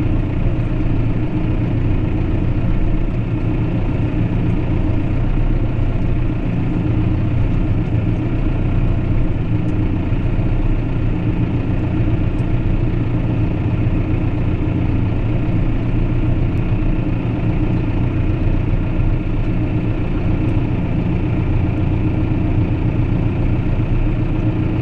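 A stopped tractor idles with a steady, even low-pitched engine rumble that stays constant and close, with no other sounds on top.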